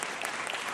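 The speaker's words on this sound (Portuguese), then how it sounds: "Pedir uma salva de palmas para o doutor" Brief burst of applause from attendees at a formal ceremonial session honouring Rotary International, greeting a district governor, a dense even patter of clapping, moderately loud, with no voices above it.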